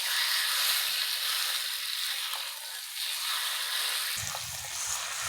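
Mutton sizzles steadily in a hot pan as it is stirred for kosha mangso, a dense, close frying hiss with a brief low scrape of stirring near the end.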